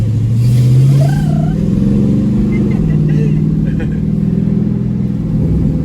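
A Jeep Grand Cherokee SRT engine revs and accelerates with a loud, deep, steady roar that rises in pitch, while someone talks over it.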